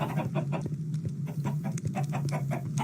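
Chickens in a video game automatic chicken farm cluck in rapid, overlapping bursts at close range, a busy and continuous flock sound over a steady low hum.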